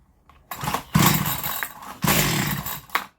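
A Zombie Slayer chainsaw with a timing problem fires up in two short bursts of harsh, buzzing two-stroke revving, close and loud, with brief pauses between.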